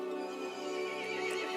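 A horse whinnies in Resident Evil Village, a loud, sustained, strained neigh that fills the short moment with no talking over it.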